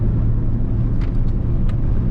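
A Ferrari 458 Italia accelerates out of a corner on a circuit at Kakucs, a steady low engine drone heard from inside the car, continuous and fairly loud, with a few faint higher chirps.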